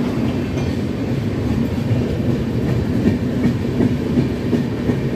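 An express train from Mumbai LTT to Visakhapatnam runs past on the opposite track at Samalkot Junction, a steady loud rumble of wheels and clattering carriages close by throughout.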